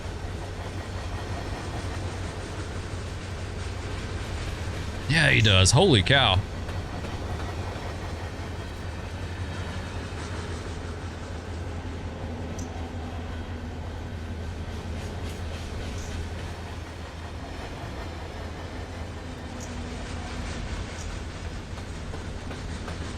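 A long CSX freight train in the Run 8 Train Simulator game rolls past on a hill climb with a steady rumble and faint clatter, interrupted briefly by a sharp squeal; someone speaks a few words.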